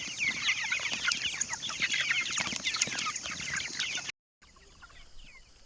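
Cornish Cross broiler chickens out on pasture keep up a dense, continuous chorus of clucks and chatter close by, cutting out abruptly near the end before quieter flock sounds resume.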